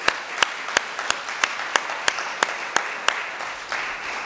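A small crowd claps at a community branch meeting in St. George, with sharp hand claps standing out as distinct peaks over a steady wash of applause lasting several seconds.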